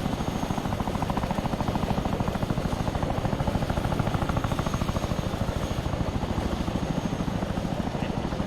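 Chinook helicopter in ARMA 3, its rotor thudding in a fast, steady, dense beat that stays loud and close without letup, with no voices over it.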